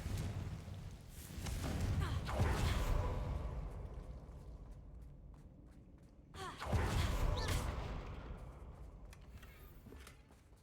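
In Hogwarts Legacy, two Confringo fire-spell blasts go off several seconds apart, each a soft whooshing burst that swells and slowly fades, fairly quiet overall with faint game ambience between them.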